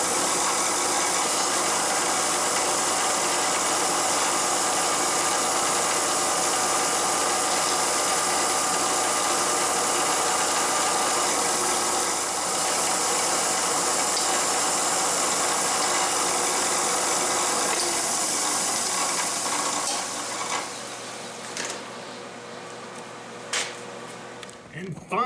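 Bandsaw running loud and steady while cutting a bevel in wood, a dense continuous whir and buzz close by that drops away into quieter mechanical rattling over the last few seconds.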